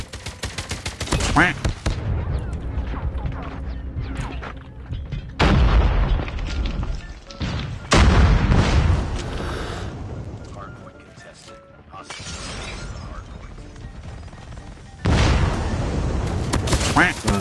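Loud bursts of weapon fire and booming impacts in Call of Duty Mobile come in repeated volleys, broken by quieter gaps, with someone talking over much of the action.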